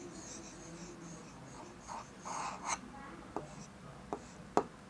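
A pen scratches across paper in short strokes while Urdu letters are written by hand, with soft rubbing and a few sharper taps near the end, close and quiet.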